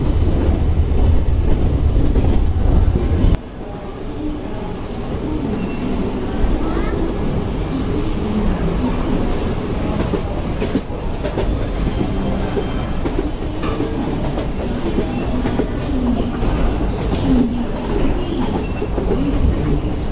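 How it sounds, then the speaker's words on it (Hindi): Ranikhet Express arriving at Ajmer Junction, with loud continuous rumble and rail clatter that drops abruptly after a few seconds into steady carriage and platform noise. A voice talks at moments. "हमारी ट्रेन अपने दूसरे स्टॉपेज अजमेर जंक्शन पर पहुंच गई है।"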